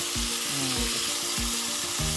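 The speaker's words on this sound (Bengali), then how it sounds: "ভাজা মাংসটা ঢেলে দিলাম ঢেলে দিয়ে নাড়াচাড়া দিলাম দেখো নাড়াচাড়া করছি" Steady loud sizzling of chicken frying in a pan, with repeated scraping strokes of a spatula stirring it at a regular rhythm.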